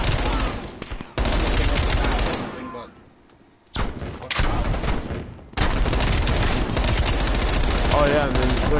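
Dense bursts of gunfire from the Call of Duty Cold War campaign, loud and sustained with a short lull midway, then heavy shooting resumes alongside game voices and a player talking.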